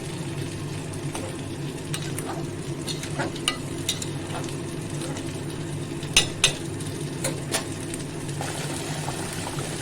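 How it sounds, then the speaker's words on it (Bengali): A pot of Bengali fish curry (macher jhol) simmering with hot water added, giving a steady bubbling and stirring sound with a few sharp clinks of utensils against the pot, close up and with no talk. "তরকারি ফুটছে আমি মাছ ঢেলে দিলাম"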